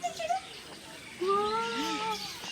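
Small parakeets at Vizag zoo give a few short, bright chirps and rising whistled calls, fairly faint, over a soft background murmur that may include distant voices.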